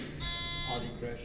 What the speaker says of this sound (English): we're starting this game with a buzzer check